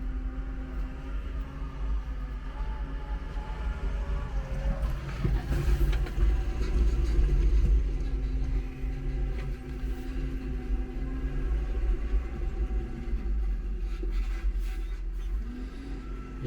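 A tractor pulling a tri-axle trailer loaded with grass arrives on a farm, giving a low, steady engine rumble that swells slightly midway and stays fairly distant throughout.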